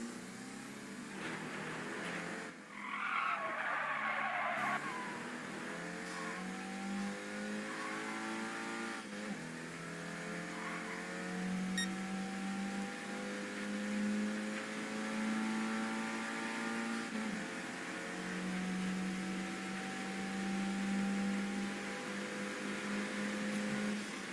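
Racing car engines in a video game rev and whine steadily for the whole stretch, their pitch climbing and shifting through gear changes, moderately loud with no talk over them.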